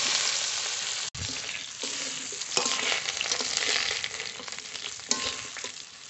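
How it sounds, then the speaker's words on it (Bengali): Potato pieces frying in oil in a pan for a village-style Bengali curry, a loud steady sizzle close by with occasional stirring scrapes and no talk. "আলুটা ভালো করে ভেজে নেব।"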